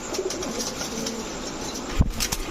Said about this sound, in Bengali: দেখেন কবুতর দাঁড়ানো, দেখেন খালি